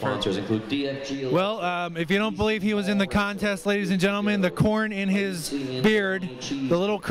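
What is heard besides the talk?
None of the usual background noises is heard.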